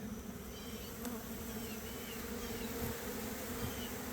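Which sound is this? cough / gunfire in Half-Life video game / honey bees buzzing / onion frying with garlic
honey bees buzzing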